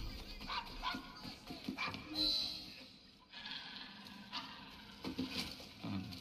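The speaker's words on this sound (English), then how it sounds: "He's a good doggy." A dog barks and yips a few times in Assassin's Creed Syndicate, short bursts scattered through the scene over game background sound and a speaking voice.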